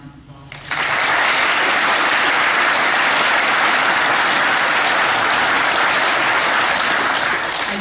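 After a brief quiet moment, an audience at a celebration honoring poet Philip Levine erupts into loud, sustained applause that stays full and even to the end.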